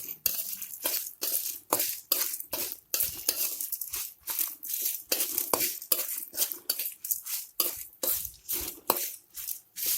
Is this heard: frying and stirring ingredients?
yes